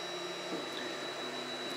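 A small Qidi Tech X-one2 3D printer runs, giving a quiet, steady whirring hum with shifting motor tones and a faint high whine, continuous and without speech.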